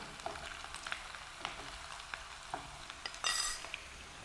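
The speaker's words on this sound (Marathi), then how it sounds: "आता आपण सर्वप्रथम बटाटा तळून घेणार आहोत" Potatoes frying in a pan for a Maharashtrian flower-batata rassa, a steady soft sizzle with scattered light stirring clicks and a brief louder burst of crackle near the end, no talk.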